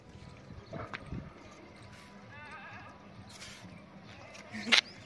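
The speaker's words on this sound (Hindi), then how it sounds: "बकरी की आवाज़ है" Goats bleating at a fort hotel in Bishangarh, a few short wavering bleats at moderate distance over quiet ambience, with a brief sharp knock near the end.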